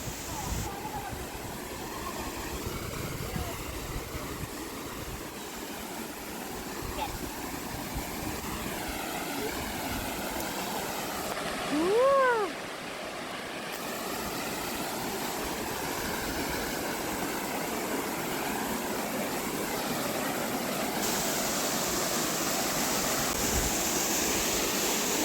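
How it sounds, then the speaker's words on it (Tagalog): A waterfall at a scenic falls in Hong Kong roars as a steady, broadband wash of falling water that runs through the whole stretch, with people talking nearby and a brief whistle-like tone partway through. "Ayan ang falls."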